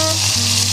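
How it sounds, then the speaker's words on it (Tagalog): Food sizzles steadily in hot oil during a second deep-frying to make it crunchy, a brief, close, continuous crackling hiss. "Yung pangalawang luto nito, konting babad lang sa mantika para mag-crunchy."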